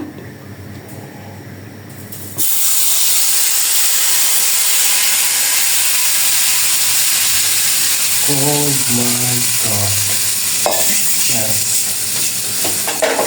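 Hot oil is poured over spices for a Korean noodle sauce and bursts suddenly into a loud, sustained sizzle and hiss. A few brief stirring clatters break in near the end.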